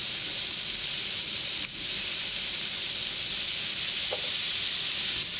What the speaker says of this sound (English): Now you put in your razor clam.And very quickly, give it a quick stir.